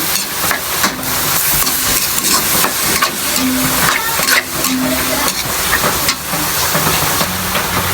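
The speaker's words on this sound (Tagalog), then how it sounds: "Nagigisa na po ako ng, ayan, nagigisa ko na siya." Ground pork sizzles loudly in a hot pan while being sautéed, with carrots added, giving a continuous frying hiss with faint stirring scrapes and occasional light clinks, close and steady.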